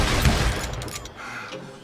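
Gunshots in the Western shooter Call of Juarez Gunslinger, a loud close blast right at the start that rings out and decays over a couple of seconds, with faint further reports fading behind it.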